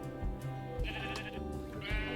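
Sheep bleating in the game Minecraft, several wavering bleats in turn over a steady ambient game background with low soft thumps.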